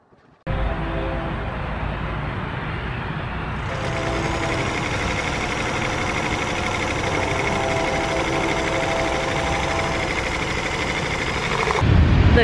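A vintage Singer Featherweight 221 sewing machine runs steadily and close by outdoors, a continuous mechanical whir with rhythmic clatter that grows slightly louder partway through.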